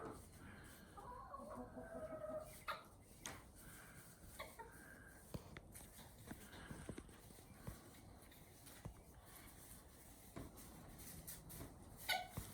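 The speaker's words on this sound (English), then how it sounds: "Come on, chickens." Chickens cluck intermittently amid a busy farmyard during morning chores, with hoof-like clip-clop knocks and scattered clatter throughout.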